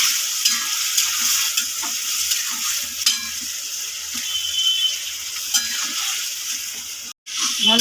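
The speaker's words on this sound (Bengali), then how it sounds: "আমি এবার মটরটা দিয়ে দেবো, সেদ্ধ করা মটরটা দিয়ে একটু নেড়ে নেবো" Boiled peas are stirred and fried in spice paste, a steady close sizzle broken by repeated scraping strokes of the spoon, briefly cutting out near the end.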